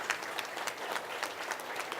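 Audience at a speech contest conference claps in a steady, moderately loud round of applause, with individual hand claps standing out against the sustained wash.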